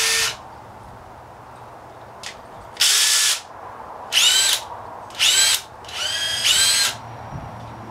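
A Makita hammer driver drill making an odd noise, running in several short bursts of high whining motor spin separated by pauses, loud and close with no speech.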